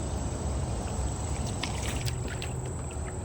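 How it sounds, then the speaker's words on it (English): A kayak is paddled with one arm, giving soft, steady water swishes and splashes close by over a constant broadband outdoor wash, with no voices. "One arm paddling."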